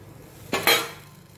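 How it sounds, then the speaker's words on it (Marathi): A spoon clanks against a pot of cooking dates and powdered ingredients as they are mixed, two quick close metallic knocks in an otherwise quiet kitchen. "आपण हे सगळे मिक्स करू"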